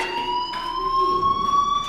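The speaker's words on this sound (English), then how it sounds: "Hey, do you hear that fire alarm?" A fire alarm rings in the video game Life is Strange, a steady electronic tone with high harmonics that holds unbroken and fairly loud through the whole moment, with no voices over it.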